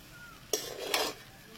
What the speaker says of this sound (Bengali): এবার দিয়ে এরকম করে মিশিয়ে দেবো।